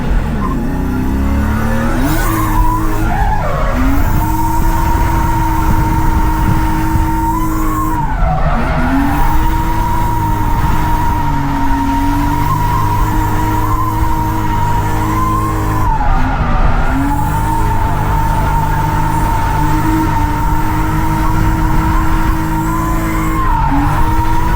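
A BMW E36 M3 drifting, its engine droning and revving steadily with rising and falling pitch through transitions while the tires skid and squeal continuously, loud and close throughout.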